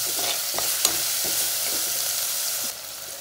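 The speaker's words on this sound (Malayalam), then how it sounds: "അപ്പോൾ ജസ്റ്റ് ഒന്ന് വഴറ്റിയെടുക്കാം" Onions sauté in a pan for a sardine curry, producing a continuous hissing sizzle with light scraping stirs throughout, close and fairly loud.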